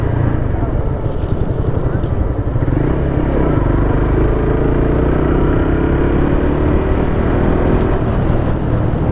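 A Suzuki GSX-S150 motorcycle engine drones steadily and loudly while riding, with a rising pitch as it accelerates midway, and a voice talks over the constant engine and wind noise.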